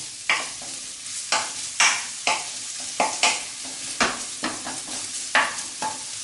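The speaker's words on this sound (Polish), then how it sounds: "należy boczek z cebulą podsmażyć. Pamiętamy o mieszaniu." Diced bacon and onion fry in a pan, a steady sizzle broken by repeated scraping strokes of a spoon stirring them, close and regular at roughly half-second intervals.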